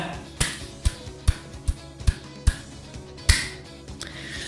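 A series of sharp, punchy clap-like impacts from R.Mika's forward medium punch clap attack in Street Fighter, about nine in all, spaced at a fairly regular rhythm over a low background hum.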